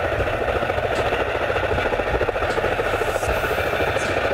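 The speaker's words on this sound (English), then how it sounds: "Military cargo helicopter." A military cargo helicopter, a heavy transport type, drones with a steady low engine rumble and a faint rotor throb, continuous and fairly close with no talk.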